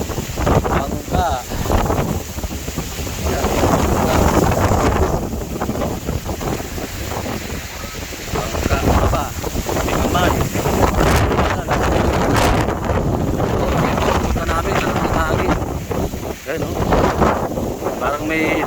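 Strong sea wind buffets the microphone in a steady roar with a boat nearby, while people talk on and off throughout.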